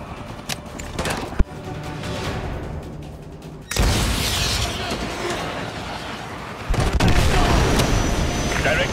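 An AGM missile strikes an enemy helicopter in Call of Duty Modern Warfare 2, giving two heavy, booming blasts that swell into a sustained roar of fire and debris.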